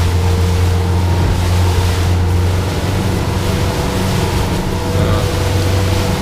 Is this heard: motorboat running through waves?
yes